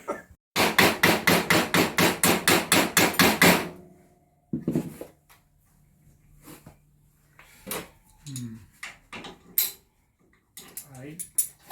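Rapid, loud hammer blows, about a dozen in a steady fast rhythm, strike a nut to knock it off a 500cc JBS racecar. Quieter scattered clinks and a man's speech follow.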